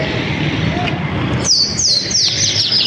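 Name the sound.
pigeons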